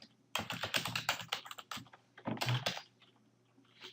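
Rapid keystrokes on a computer keyboard as a password is entered, a close, clattering run of clicks in two bursts with a short pause between.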